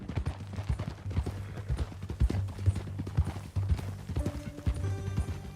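Horse hooves clip-clop steadily in Red Dead Redemption 2. The sound is a close, busy rhythm of hoof strikes on the ground over a soft low rumble, with a faint musical tone entering near the end and no speech.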